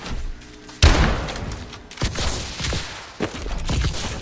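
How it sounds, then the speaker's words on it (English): Video game gunfire aimed at the ground comes as loud, close shots and bursts of repeated booming blasts with a thumping, rumbling tail. "you shoot the ground to tell if it's solid or not"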